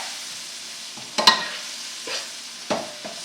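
Mushrooms with breadcrumbs sautéing in a pan, a steady close sizzle with a few scraping stirs breaking through it.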